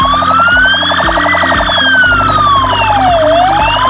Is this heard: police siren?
yes